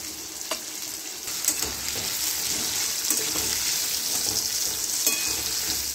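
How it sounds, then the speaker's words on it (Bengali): Potato pieces frying in oil with turmeric powder for a soybean and potato curry, giving a steady, close sizzle with occasional stirring scrapes and crackles throughout, no voices. "ভাজা হয়ে গেছে লাল লাল করে।"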